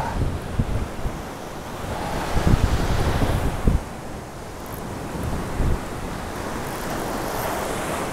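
Ocean surf rolls and breaks continuously along a beach, with heavy wind buffeting the microphone and occasional deeper thumps from crashing waves.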